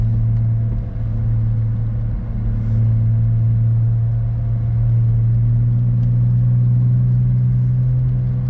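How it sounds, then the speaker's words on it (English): Dodge Challenger V6 with an MBRP catback exhaust, a loud, steady deep exhaust drone and rumble heard from inside while cruising in sport mode, holding nearly constant throughout with no talking. "This is the MBRP catback system. This is a V6."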